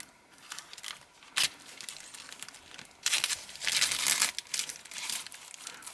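Plastic packaging around a pack of writing paper being unwrapped, with bursts of close crinkling and tearing separated by quieter handling, the loudest stretch coming near the end.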